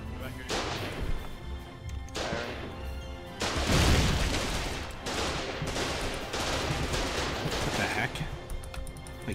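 Artillery firing in the war game Foxhole, a dense stretch of booming blasts and gunfire. Heavy thuds rise out of a continuous loud battle din, with the strongest impact near the middle.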